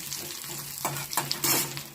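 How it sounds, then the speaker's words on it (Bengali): Neem leaves frying in oil in a pan: a soft steady sizzle is broken by two or three louder bursts of crackling and stirring, heard up close. "দেখো কিভাবে তেলের মধ্যে আমি এই নিম পাতাটাকে দিয়ে দেবো নিম পাতাটা সুন্দর করে ভাজা ভাজা হলে"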